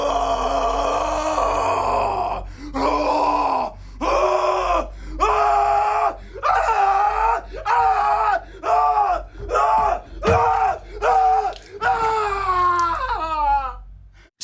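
A man lets out a long, strained scream in the style of Nicolas Cage, broken into repeated loud, harmonic bursts with short gaps between them, rising and cracking toward the end, with nothing else alongside it.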